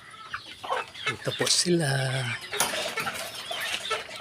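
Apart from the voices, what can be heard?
clucking pet chickens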